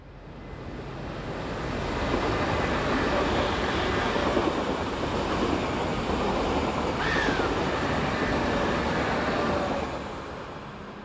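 Swiss train 610009, the 08:25 Milano to Zurich service, climbs the Gotthard south ramp, a broad rushing rumble swelling in from a distance, holding steady, then fading, heard alone outdoors.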